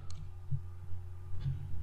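Quiet computer mouse clicks while working in PowerPoint, a few single soft clicks spaced about a second apart over a low steady hum.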